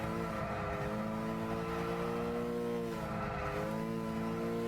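Delara race car in Gran Turismo 6 at Hockenheim, its engine a loud, steady high-pitched whine with harmonic drone, dipping briefly as it shifts or lifts off before pulling hard again.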